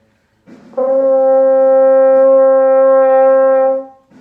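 A single sustained open G on French horn, held steady for about three seconds at a strong, even volume before fading out.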